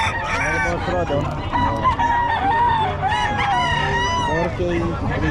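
Close, loud rooster crowing rises in drawn-out calls over steady clucking from chickens for sale, while people talk nearby throughout.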